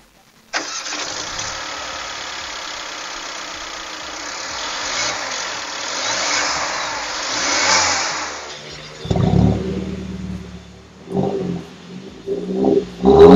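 A 2016 Mercedes-Benz CLA200 Sport starts up and settles into a steady running drone, then takes several sharp throttle blips with a buzzy muffler whine. The car is close and loud, with no talk.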